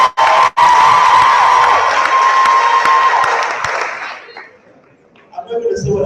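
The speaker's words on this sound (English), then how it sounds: "those who clap for her, please clap again" Crowd at a talent-show style gathering erupts in loud, sustained cheering, clapping and shouting for several seconds before fading out, followed by faint murmuring.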